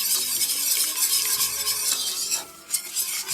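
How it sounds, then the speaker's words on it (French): Milk being stirred into a roux in a pan for sauce aurore: a steady, close scraping and swishing that runs continuously, with a brief dip near the end. No one talks. "On met un petit peu de liquide, on mélange bien pour bien détendre le roux."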